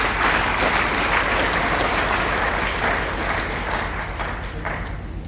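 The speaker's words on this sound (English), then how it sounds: "let's give a round of applause to our families" A school sports awards night audience applauds the families, a loud, dense wash of clapping from a full room that holds steady and begins to thin slightly toward the end.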